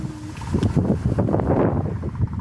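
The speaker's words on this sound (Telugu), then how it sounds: "చాలా గాలి వస్తుంది" Strong outdoor wind buffets the microphone in a loud, continuous rumbling gust lasting a couple of seconds, with no other sounds over it.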